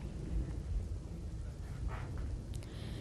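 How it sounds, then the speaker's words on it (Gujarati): Heavy downpour over village areas of Dwarka district, a steady dense hiss of rain with a deep rumbling wash underneath, continuous and fairly loud throughout, with a few brief brighter splashes near the end. "ખાસ કરીને ગ્રામ્ય વિસ્તારોમાં ધોધમાર વરસાદ વરસી રહ્યો છે"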